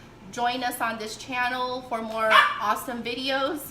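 A dog barks and yips repeatedly in short, loud bursts close by, overlapping with a person talking throughout.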